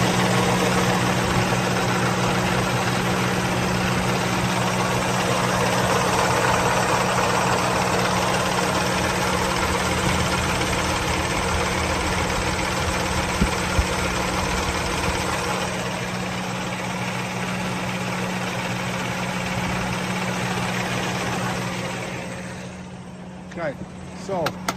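A 2018 Peterbilt 579 truck's diesel engine idles steadily and loudly nearby with the oil filler cap off, a constant low rumble and clatter, easing off slightly toward the end.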